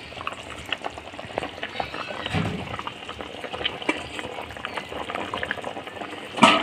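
Rohu fish pieces going into a thin village-style curry with potatoes and vegetable stalks, a close bubbling boil with wet splashes and clatter, ending on a brief sharper knock.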